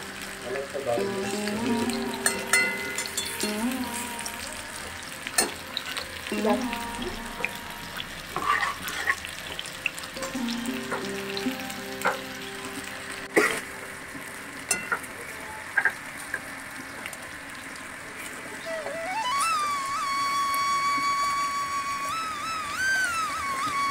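Fish frying in a pan in a home kitchen, an ongoing sizzle with stirring knocks and scrapes, partly masked by background music and occasional voices.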